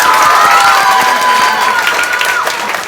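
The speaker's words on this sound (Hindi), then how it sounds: "एक जोरदार ताली और बजना चाहिए।" Loud applause and cheering from an audience at an award ceremony honouring top successful students, a dense steady roar with crowd noise and a few raised voices mixed in throughout.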